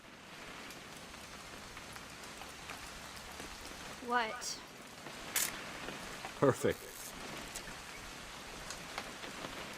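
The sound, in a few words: rain falling, video game What Remains of Edith Finch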